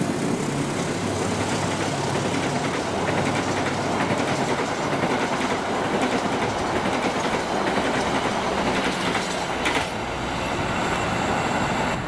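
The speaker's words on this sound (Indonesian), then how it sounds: "kereta api Argo Parahyangan tambahan PLB 46A ini menggunakan rangkaian datangan dari PLB 37A" An Argo Parahyangan passenger train rolls past at Bekasi Timur, a loud steady rumble of rail cars with clattering wheels and faint squeals continuing throughout, close by and without voices.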